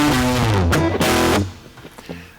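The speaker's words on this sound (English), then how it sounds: "All I know that this does is it'll make the sound much more distorted" Heavily distorted audio signal from a digital distortion effect applied with the Pedalboard Python library, a gritty harmonic-rich tone holding for over a second before cutting off to fainter, scattered crunchy bursts.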